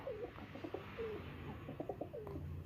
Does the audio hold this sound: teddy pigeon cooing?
yes